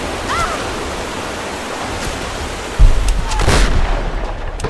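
A single gunshot in the video game Tomb Raider, a sudden heavy boom that trails into rumbling noise, heard over a continuous rushing, water-like game ambience.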